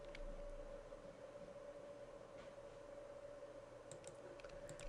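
Soft, quick keystrokes on a computer keyboard while filling in a freight quote form, faint and close against a steady background hum, with a few sharper clicks near the end.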